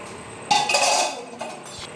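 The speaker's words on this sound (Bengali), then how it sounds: "আমি চুলোটা এখন অফ করে দিচ্ছি ঢাকনাটা খুলে দেখছি" A metal steamer lid lifted off chicken momos, a sudden clanking rattle with a short ringing clink, then a smaller knock a moment later in a quiet kitchen.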